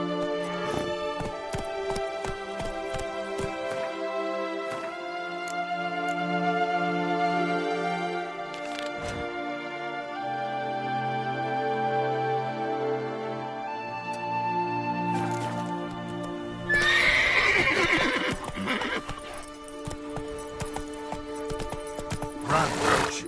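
Hoofbeats of a horse running in The Witcher 3 video game, a clip-clop rhythm sitting under prominent game music, with a brief rougher burst near the end that may be a whinny.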